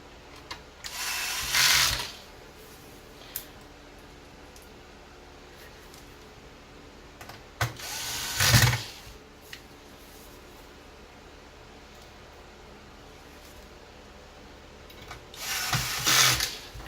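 A small electric screwdriver driving screws to fit a hard drive cradle into a Beyonwiz U4 PVR: three short whirring bursts spaced several seconds apart, with quiet pauses between them.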